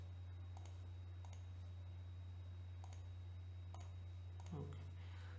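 A computer mouse clicks in quick double taps, about five crisp pairs spread across the stretch, close and clear over a constant low electrical hum.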